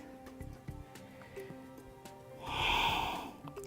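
A pregnant woman breathes out during a prenatal yoga session: one soft, airy exhale swells and fades close to the mic, after quiet breathing with faint background tones.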